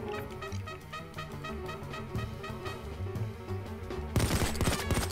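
Rapid, dense gunfire from an unsilenced pistol in a video game, sustained loud cracks over a busy game soundtrack, swelling into a harsher burst near the end.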